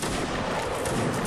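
A dense gunfire volley in a video game line battle: a sustained, loud wall of overlapping shots and rumble filling the whole moment, with no pause.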